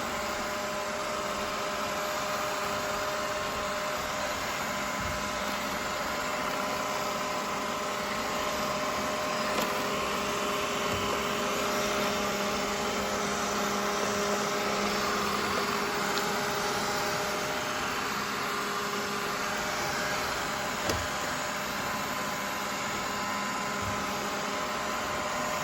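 A RoboRock S5 robot vacuum works its way around a kitchen table, giving a steady, continuous whir with a constant tonal hum and brush noise at close range, with no talking.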